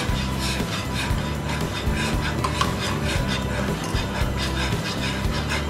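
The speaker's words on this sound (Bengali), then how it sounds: "এভাবে অনবরত নাড়তে হবে, না হলে গুটি বেঁধে যাবে।" A spoon stirs thick, sticky Bombay halwa made with starch, ghee and chopped pistachios and almonds in a pan, producing a continuous close rhythmic scraping and rubbing with a low steady hum underneath.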